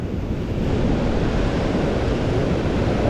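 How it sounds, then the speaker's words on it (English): Big ocean waves crash and surge against coastal rocks, a loud, continuous broadband roar with wind noise buffeting the microphone and no voices. "some big waves coming through."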